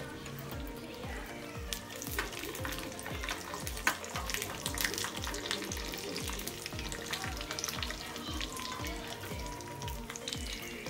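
Raisins and dry fruits frying in a pan for pumpkin kheer, a steady close sizzle with continuous crackling pops and stirring throughout, no voices.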